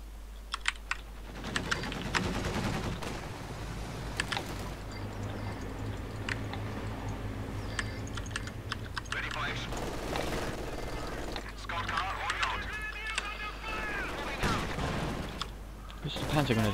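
Scattered gunfire from a Company of Heroes 2 battle, sharp crackling shots and bursts spread across the scene under a low steady hum, with some keyboard-like clicking and a voice speaking now and then.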